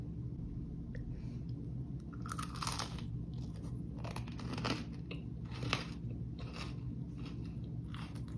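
Close, crisp crunching bites into a rice crispy treat with golden Oreos, several distinct crunches followed by chewing, quiet otherwise with no speech.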